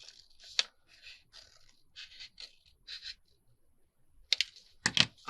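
Scissors snip through paper to cut a small flap for a fold-up journal clutch, a few soft crisp cuts spread out, then a louder cluster of sharp snips near the end, close up with no talking.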